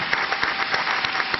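Audience applause at a festival opening, a brief burst of many hands clapping in a continuous even patter, heard from a slight distance and band-limited as if recorded through a broadcast feed.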